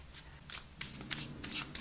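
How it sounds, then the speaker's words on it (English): A tarot card deck being shuffled by hand, giving soft, quiet riffling bursts in quick succession over a short stretch. "2 more shuffles."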